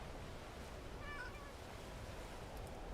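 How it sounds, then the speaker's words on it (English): A cat meows briefly in the Skyrim game, a few short tonal cries heard once against a constant background hiss, with no talking. "Yeah, I hear you, kitty."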